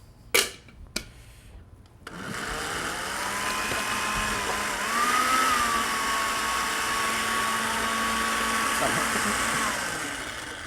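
A kitchen blender whirs steadily for about nine seconds, blending sauce ingredients with very little oil, its motor pitch rising slightly midway; two sharp knocks come first, and people talk over the loud continuous whine.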